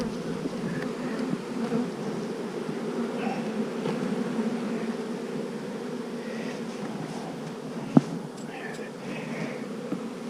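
Honey bees buzz in a low, steady drone as two colonies are combined outdoors in the woods, a close, continuous hum with faint flicks and one sharp knock near the end.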